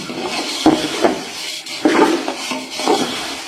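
A kilo of boondi being mixed in a pot for ladagi laddu, with loud, close metal scraping and clattering strokes in an uneven rhythm.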